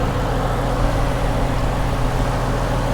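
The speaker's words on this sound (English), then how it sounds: "the engine sounds very quiet" A 2017 Mercedes-Benz AMG GT engine idles with a smooth, steady low hum, loud and continuous, with no ticks or knocks breaking through.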